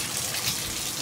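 Water runs from a bathroom tap to fill a bath for a small boy, a steady, close, hissing rush of flow that continues evenly without pause or speech.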